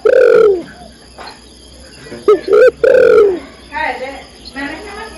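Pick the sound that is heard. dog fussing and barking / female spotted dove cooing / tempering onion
female spotted dove cooing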